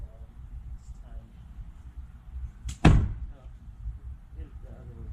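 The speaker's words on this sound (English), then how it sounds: "Knock that piece off of the bottom." A big hammer strikes a piece off an old 1940s wooden chicken coop during demolition, one sharp knock in the middle with people talking nearby before and after.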